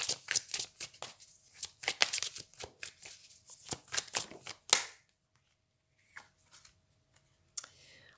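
Tarot cards are shuffled up close in rapid, papery riffles for about five seconds, followed by near silence broken only by a few faint card taps.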